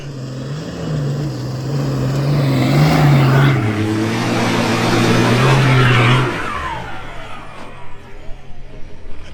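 A 4WD engine revs hard and loud while climbing a big red sand dune in the Simpson Desert, holding a strained drone with rising pitch and gear changes before dropping to a lower idle and then fading.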